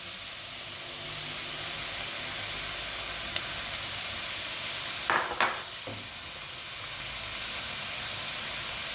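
Boiled rice is stir-fried with salt and white and black pepper in a pan for chicken fried rice, giving a steady hissing sizzle. A short burst of scraping and stirring comes about midway. No voices can be heard.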